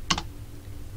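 A few quick keystrokes on a computer keyboard while entering a sudo command in a Linux terminal, two close, crisp clicks near the start and then quiet room hum.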